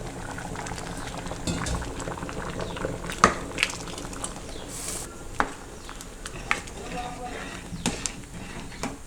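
A pot of sambar boils on the stove, a soft continuous bubbling with scattered pops and small clicks, fairly quiet and steady.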